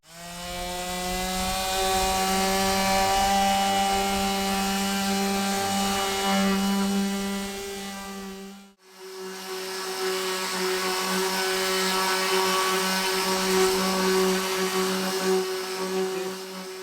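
A power sander with a triangular pad whines steadily on a teak deck, a loud harmonic buzz that cuts out for a moment midway and then starts again at the same pitch.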